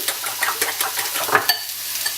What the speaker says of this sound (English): just whisking that up